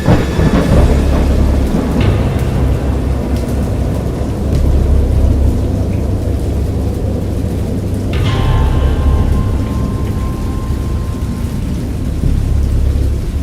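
Heavy rain pours steadily while deep thunder rumbles throughout, with a sharper crack of thunder partway through, from the video game Dagon. It is loud, close and continuous, with no voices.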